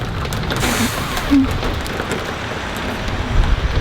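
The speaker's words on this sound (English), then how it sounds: "Why is it raining?" Steady rain pours down, a dense hiss of drops hitting surfaces close by, continuous for the whole stretch.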